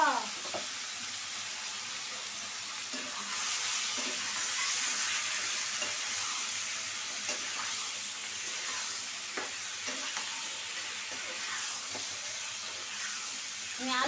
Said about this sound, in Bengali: আলুটাও একসাথে একটু ভাইজা নিই